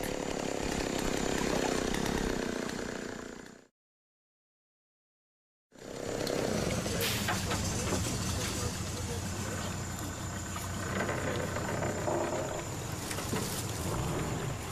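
A loud motorized drone, like a chainsaw at work, runs continuously, cuts out briefly to silence, then returns with rough, fluctuating revving.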